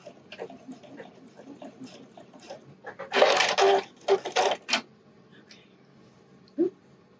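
A sewing machine stitches the channeling of a wireless bra in a few short bursts of rapid whirring, close by, between stretches of quiet handling sounds and low talk.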